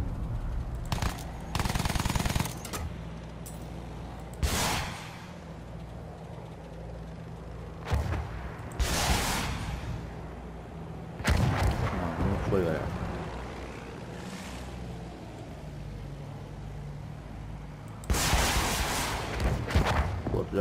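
Bursts of rocket and gunfire strike ground targets in the Battlefield 1 video game, sharp loud blasts arriving in irregular clusters with quieter gaps between them, while a person talks over the action.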